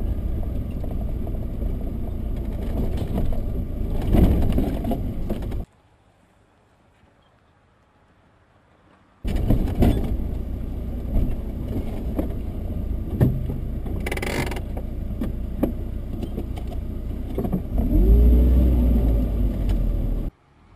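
A UAZ off-roader drives along with a loud rumbling, rattling drone from its front left wheel hub, which crackles as it rolls. The noise cuts out for a few seconds, then returns with bumps and knocks and a heavy low burst near the end.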